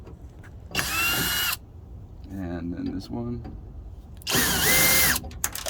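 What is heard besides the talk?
cordless drill with T25 bit removing taillight screws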